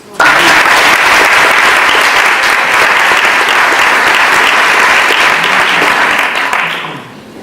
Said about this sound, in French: Donc j'aimerais beaucoup qu'on t'applaudisse.